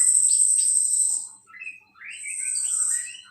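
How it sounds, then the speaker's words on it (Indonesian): High, thin chirps and trills from small songbirds such as hanging parrots, parakeets or hummingbirds sound clearly against silence, with a sustained whistle, a brief pause, then more rapid calls. "pakai suara-suara burung kecil dahulu seperti serindit atau parkit atau kolibri"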